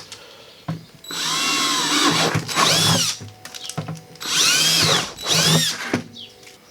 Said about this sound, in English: so I'm going to drill the hole